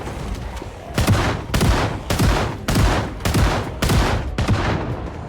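Shotgun fire in the zombie survival game Project Zomboid: six loud, evenly spaced blasts about half a second apart, with no speech.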